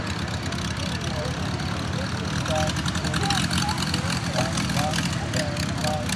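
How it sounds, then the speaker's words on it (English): A propeller-driven model airplane landing slowly at an air show, its engine droning steadily at a distance under constant ambient noise with a faint announcer voice. "See how slow the airplane lands."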